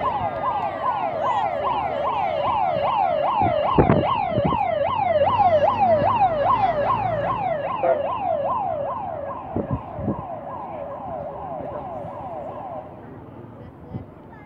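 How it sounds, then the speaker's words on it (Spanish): A fire engine siren wails, sweeping up and down in rapid repeated cycles, loud and fairly close, then cuts off, with a few knocks and faint voices underneath, during a volunteer fire brigade emergency drill. "la sirena de bomberos sirve solo para el desplazamiento"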